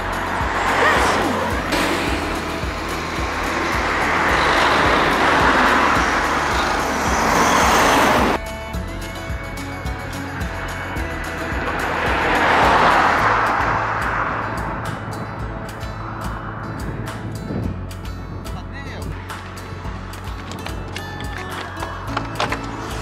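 A van driven along a road in Portugal, its steady engine and tyre-on-road noise continuous throughout, with a louder stretch early on and a slight shift in tone midway.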